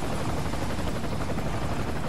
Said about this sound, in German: Ich hoffe, das ist mein eigener Hubschrauber.